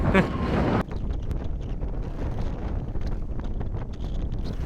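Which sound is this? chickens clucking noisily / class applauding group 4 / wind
wind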